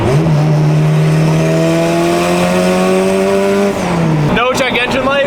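A turbocharged B18C-powered Honda EG hatchback accelerates hard, its engine note climbing loudly and steadily through the rev range before a sharp shift and renewed roar.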